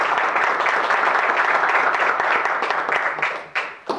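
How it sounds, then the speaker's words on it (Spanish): An audience at a museum lecture on radio astronomy applauds to welcome a speaker, a dense sustained clapping that holds steady and then thins out toward the end. "démosle un aplauso de bienvenida al doctor Jaime Gómez Carri"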